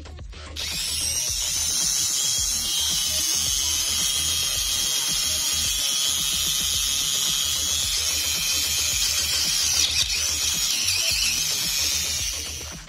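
A Tamiya mini 4WD motor on a Super 2 chassis spins its freshly greased gearbox on battery power, producing a loud, steady, high-pitched gear whir that starts abruptly and runs evenly without talk.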